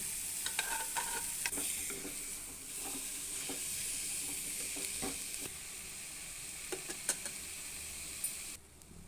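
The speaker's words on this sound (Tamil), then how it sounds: "வேக வைத்த வெள்ளை கொண்டக்கடலை சேர்த்துக்கலாம்" Boiled white chickpeas sizzle in a hot pan with rock salt and chili powder as they are sautéed for a tamarind kuzhambu. A steady frying hiss runs under scattered spoon scrapes and taps.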